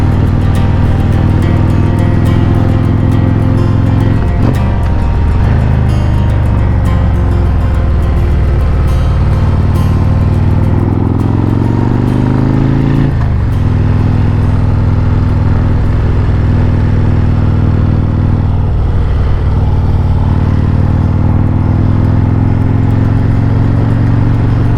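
A Harley-Davidson Road Glide motorcycle ridden along Tennessee backroads, its engine droning loud and steady throughout, pitch rising and falling through gear changes and throttle shifts, with wind rush and no talk.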